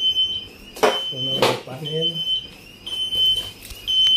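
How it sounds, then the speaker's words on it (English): A GST conventional fire alarm system sounds with a steady high-pitched tone running throughout, while someone speaks over it and a sharp click-like sound cuts in. "Now alarm coming."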